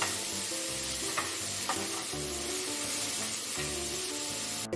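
Boiled vegetables sizzle as they are sautéed with salt in a pan for paneer cutlets, a steady loud frying hiss with occasional stirring scrapes, close up and alone.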